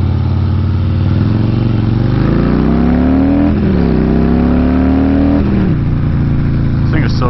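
A 2008 KTM 250 SXF four-stroke dirt bike engine runs loud and close, its pitch rising and falling through revs, heard over steady rumble with a voice faintly underneath.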